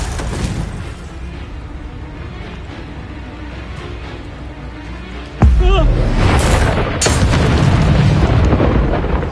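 Confringo spell blast in a Harry Potter video game: a sudden loud explosive boom bursts in midway, followed by a sustained rumbling roar of debris and crackle after quieter ambient game sound and speech.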